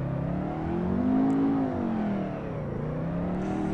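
A racing car engine in the video game Assetto Corsa drones and revs steadily on track, pitch rising and falling as it accelerates, with no talking.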